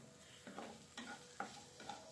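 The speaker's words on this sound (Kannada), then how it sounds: "ಈಗ ಚೆನ್ನಾಗಿ ಫ್ರೈ ಮಾಡ್ಕೊಳ್ಳೋಣ. ಎಗ್ ಬುರ್ಜಿ ಆಯಿತು." Egg bhurji cooks in a pan, heard as a faint, quiet sizzle under four distinct rhythmic scrapes of a spatula stirring the scrambled egg, with no voices.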